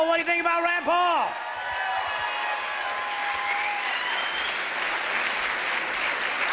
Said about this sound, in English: another round of applause for Rand Paul